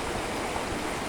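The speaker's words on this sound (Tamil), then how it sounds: "அந்த மழை தண்ணி வருது பாருங்க அருவியில், அந்த தண்ணியோட சவுண்டு பாருங்க" Roadside waterfall on the route from Bommidi to Yercaud, swollen with rainwater, pours in a steady, dense rushing wash with no break, close and continuous.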